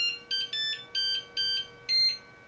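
A FlashForge Adventurer 3 3D printer's start-up buzzer gives five short, evenly spaced electronic beeps, clear and close, the last one slightly longer and higher, over a faint steady hum with no talking.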